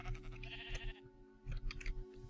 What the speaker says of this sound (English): Oh my God, so many sheep.